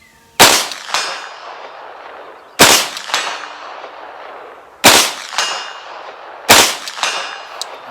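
A POF Phoenix 9mm sub gun fires four sharp, loud single shots about two seconds apart at a 100-yard range, each crack followed by a long ringing decay, with no talking.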